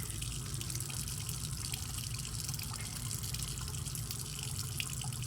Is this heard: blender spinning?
no